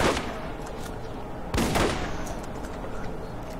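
A shotgun fires in Borderlands, with a loud blast at the start and another sharp boom midway, each trailing into a rumbling decay over background game noise.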